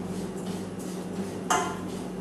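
Semolina upma being stirred and roasted in a pan, a quiet ongoing scrape of a utensil against metal with one sharper clink partway through.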